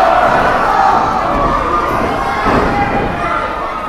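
A wrestling arena crowd cheers and roars loudly and continuously, a dense wash of shouting voices with swells of excitement.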